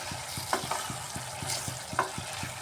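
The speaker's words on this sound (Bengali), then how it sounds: "এবার এভাবে সবজিটাকে নাড়িয়ে জলটা একদম শুকিয়ে নিতে হবে" Kurmura-style stirring of kohlrabi and potato vegetables frying in a pan to dry off released water: steady scraping strokes with a soft sizzle underneath, repeating rhythmically and close.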